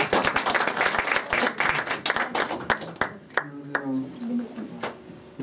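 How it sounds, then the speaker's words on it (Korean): An audience at a Korean lecture or mentoring event breaks into close, crisp clapping, with many sharp individual claps at first that thin out and fade as a voice begins speaking over the tail end. "박수를 좀 내."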